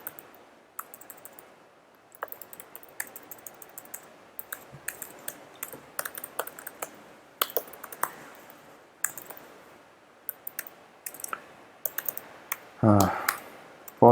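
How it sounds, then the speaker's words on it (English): Slow, irregular typing on a computer keyboard, close-up: scattered single key clicks and short bursts with pauses, a louder clatter of keystrokes near the end, and no talking. "Apologies for my slow typing"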